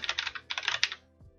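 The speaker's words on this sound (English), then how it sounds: "if I type again here" Quick clicking keystrokes on a computer keyboard come in two short close bursts, followed by a faint low thump.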